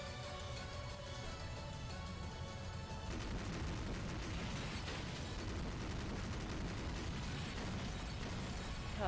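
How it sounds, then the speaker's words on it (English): Autocannon fire in the video game Rose Guns Days, a dense rapid clatter of shots that grows louder and fuller after a few seconds, under a steady bed of game noise. "Cars don't provide any cover against autocannon fire."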